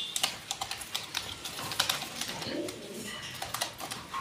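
A pair of fancy pigeons, male and female, coo softly among quick light tapping and pecking clicks, close by and fairly quiet.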